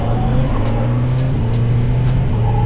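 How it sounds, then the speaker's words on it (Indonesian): A 2026 Kawasaki Z900 motorcycle under way, its engine droning loud and steady with a quick shifter in use; a continuous close-up roar with rhythmic pulsing and wind rush, no pauses. "Smooth banget quick shiftnya sumpah."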